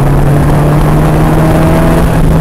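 A 2017 Polaris Slingshot with its 2.4 liter motor accelerating hard, a loud, steady engine drone with a held tone under heavy wind rush, close and continuous without talk.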